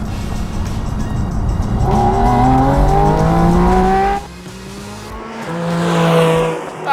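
A sports car engine roars loudly and close while driving, climbing in pitch through the revs, dropping sharply at a shift and rising again as it accelerates.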